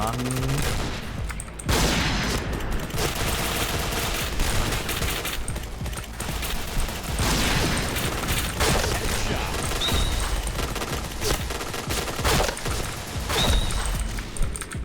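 Honey Badger light machine gun in a video game firing long rapid bursts, loud and close, with short pauses between strings of shots and mechanical clatter.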